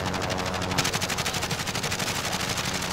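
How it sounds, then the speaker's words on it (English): Sustained machine-gun fire rattles continuously in the video game Warzone, a fast, even stream of shots at moderate loudness with no talk over it. "I'm wasting all my ammo on somebody I can't even hit."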